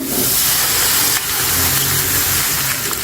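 Milk hitting a hot pan of spices and flour gives a loud, steady broadband sizzling hiss throughout, close and continuous with no talk.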